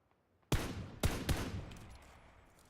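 Gunfire in PlayerUnknown's Battlegrounds sounds as three sharp, loud shots roughly half a second apart, each followed by a fading echo, with no talk.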